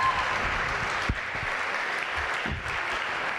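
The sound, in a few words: applause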